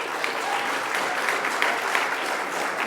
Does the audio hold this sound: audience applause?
yes